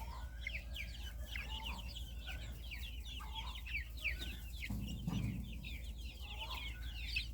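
Chicks and ducklings in a farmyard give a steady run of high cheeps and soft clucks, many small birds calling close together, with a brief low rustle partway through and no talk.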